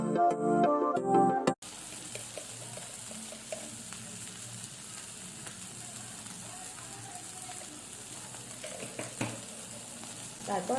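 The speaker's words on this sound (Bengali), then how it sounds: "সর্ষেটা আমি এর মধ্যে মিক্স করে দেব" Ground mustard paste is stirred into a bitter gourd curry in a pan, with a soft, continuous sizzle and faint scraping. A brief burst of music opens, then the quiet frying carries on alone.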